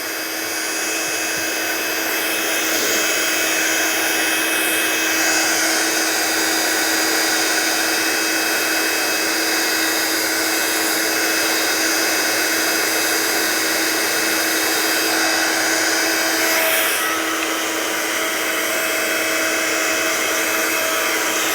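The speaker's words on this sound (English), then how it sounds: "Dry my mat as well whilst I'm at it." A heat tool blows hot air to dry a stamping craft mat, making a steady, loud whirring hum that runs alone for about twenty seconds without talking.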